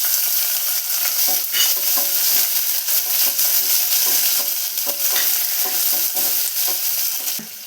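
Chopped onion fries with dried red chillies in coconut oil in a pan for a cucumber curry, producing a loud continuous sizzle broken by scraping stir strokes.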